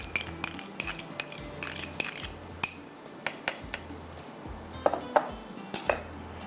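A spoon clinks and scrapes against a bowl while BBQ pizza topping with barbecue sauce, black pepper, oregano and crushed red chilli is mixed, giving irregular sharp metallic taps and ringing knocks with short pauses between.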